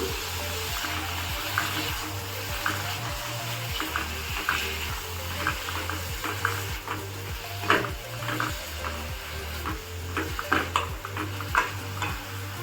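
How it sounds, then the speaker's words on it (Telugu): Brinjal pieces fry in an oiled pan with a steady sizzle, punctuated by regular, rhythmic scrapes of a spoon stirring against the metal, close and continuous throughout. "ఇది వంకాయలు మెత్తగా వరకు మనము ఫ్రై చేసుకుందాం"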